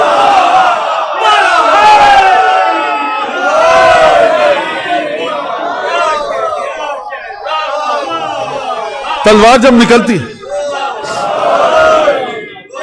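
A large mosque congregation chants religious slogans in loud, surging unison at a majlis, rising in waves around a speaker's recited verse, with a sharp burst of massed shouting toward the end.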